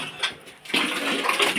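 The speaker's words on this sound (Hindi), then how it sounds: "पानी नल खोल रखा है" Water runs from an open household tap while clothes are being washed, a soft trickle first and then a louder, steady gushing splash that carries on to the end.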